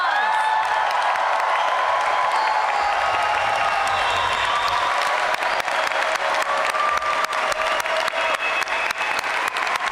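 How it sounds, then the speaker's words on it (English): A crowd applauds new U.S. citizens after their oath at a naturalization ceremony, sustained dense clapping with cheering voices mixed in, growing more distinct toward the end. "Let's give them a round of applause."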